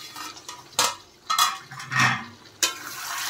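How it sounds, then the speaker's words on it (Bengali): Pointed gourd curry with potato and prawns being stirred in a pan, giving a few distinct scraping clinks of a utensil against metal spaced about a second apart over a faint, steady background. "দেখেন নেড়ে দিচ্ছি আর একটু।"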